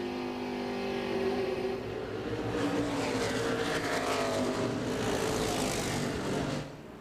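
NASCAR race car engines drone and whine at New Hampshire during the 2001 New England 300, a layered, sustained roar that swells as cars pass, then drops away near the end.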